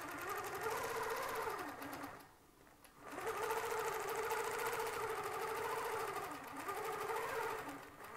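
Longarm quilting machine stitching a Westalee clamshell pattern, a steady close mechanical whir with a pulsing hum that stops briefly for about a second, then resumes and runs on continuously.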